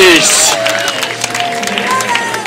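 A crowd cheers at a knighting ceremony during a medieval knights' tournament at Riegersburg castle on a full-moon night, with loud, close clapping and shouting mixed with a prominent voice and some background music.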